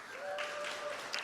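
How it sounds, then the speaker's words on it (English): Faint, steady audience applause for sponsors at a social media case study event, with a brief tonal sound mixed in and a short burst at the end. "Please give them a warm round of applause."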